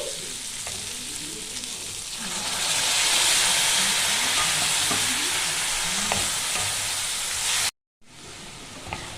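Pumpkin greens frying in a pan as water is added, a loud sizzling hiss that swells and steams, with stirring scrapes, then a brief cut to silence before the sizzle resumes.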